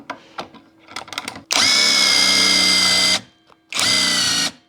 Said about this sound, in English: We can also do pocket hole drilling here, so let's actually try that.